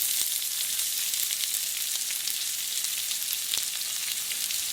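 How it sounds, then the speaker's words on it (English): Onion fries in hot oil over medium-high heat, giving a bright, crackling sizzle that stays steady and close, with occasional sharper pops. "fry this onion for like just for like maybe 4 to 5 minutes only, and medium high heat"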